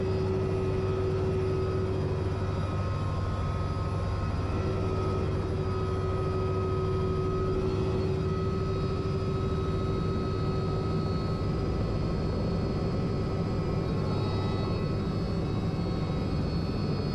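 A medivac aircraft lifts off from a steep hillside landing zone, its engine roar loud, steady and close throughout, with a continuous hum and rising tonal whine and no voices.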